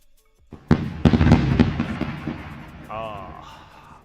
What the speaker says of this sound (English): And celebrating with the fireworks.